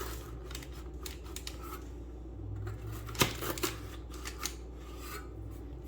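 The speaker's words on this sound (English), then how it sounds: "like using this pizza cutter for bars" A pizza cutter rolling through thick kitchen sink cookie bars, giving soft scraping and rasping passes with a sharper crunch partway through, close and fairly quiet.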